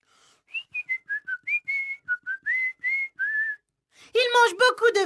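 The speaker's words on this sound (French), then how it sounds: "Il adore scier du bois en sifflant à tue-tête." A cheerful garden gnome character whistles loudly: a lively run of short, bright whistled notes rising and falling, followed by a brief burst of voiced, sung-like sound at the end.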